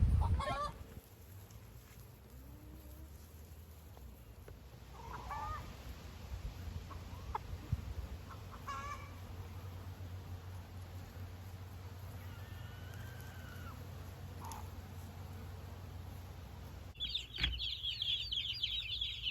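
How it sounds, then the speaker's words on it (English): Chickens on a farm, out back in the shade where they lay eggs, give scattered clucks and calls at a moderate distance over a steady low outdoor hum, with a brighter burst of clucking near the end. "here they are, way in the back in the shade, laying their eggs and doing their chicken thing"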